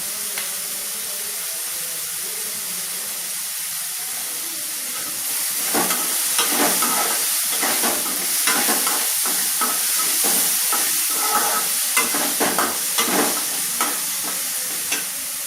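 Onions and spices for manathakkali vathal kuzhambu sauté in a pan, a steady close sizzle. Rapid scraping stir strokes join midway and continue through the rest.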